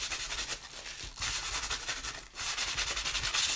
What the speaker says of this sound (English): Really rub it like you would be doing sandpaper, but not sandpaper.